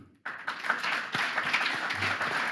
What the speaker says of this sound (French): Vous pouvez d'ailleurs vous applaudir.